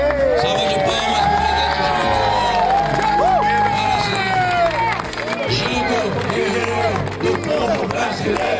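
A crowd at an outdoor civic walk in Brazil claps and cheers steadily throughout, a dense, sustained wash of applause with shouting voices mixed in.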